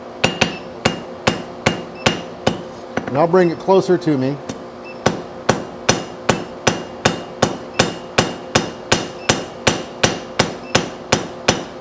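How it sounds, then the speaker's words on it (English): Rounding hammer forging hot metal: a steady run of about two dozen sharp, ringing blows at an even rhythm, close and loud, with a short stretch of talk breaking the strikes early on. "So I'm going to come over and catching it with this back side of my hammer."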